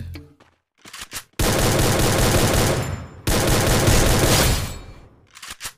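Sustained automatic gunfire in the Free Fire battle royale game, two long loud bursts of rapid shots separated by a brief gap, with a few short shots before and after.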